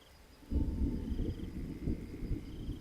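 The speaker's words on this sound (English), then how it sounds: "Oh, I can hear the thunder outside." Thunder outside during a stormy spell rolls in as a low, steady rumble that swells after a quiet start and keeps grumbling for a few seconds, muffled and distant, with no talk over it.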